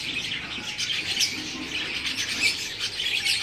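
Pet pigeons kept at home make faint, busy bird sounds, with scattered soft calls and rustling or fluttering over low room noise, no voices present.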